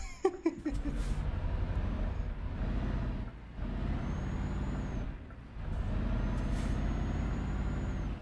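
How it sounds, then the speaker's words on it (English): Truck emergency braking in Euro Truck Simulator 2: a steady diesel engine drone under repeated hissing air-brake releases and a faint warning tone, with engine load dipping and returning a few times. "Let's see the emergency braking system"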